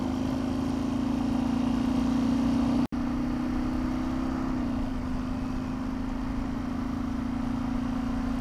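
A diesel-powered Kawasaki KLR motorcycle cruises in top gear at about 55 mph and 4,000 RPM, a steady, close engine drone with wind noise and one brief dropout partway through.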